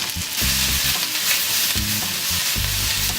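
Potatoes frying in olive oil in a pan for a steak, egg and cheese burrito, heard as a loud steady sizzle broken by three rhythmic thumping tosses of the pan, close up with no talking.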